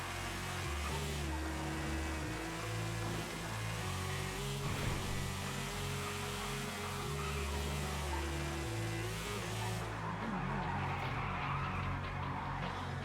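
A game motorbike in NoPixel revs and whines while being drifted on the handbrake, the engine note rising and falling with skidding tire noise throughout, steady and fairly quiet with no voices.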